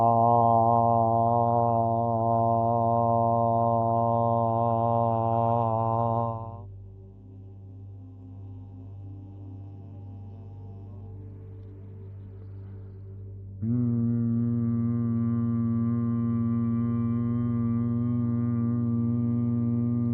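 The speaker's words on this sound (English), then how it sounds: "make a sustained vowel sound like ah" A single voice sustains an 'ah' vowel as toning focused on chest vibration, a steady harmonic-rich drone that holds for about six seconds, drops away during a breath, then returns at a slightly different pitch and holds to the end.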